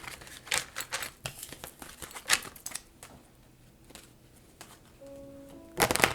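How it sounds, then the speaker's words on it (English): A deck of oracle cards being shuffled by hand, a series of crisp papery riffles and slaps, with a quieter pause midway and a louder flurry at the end. "Very difficult deck to shuffle"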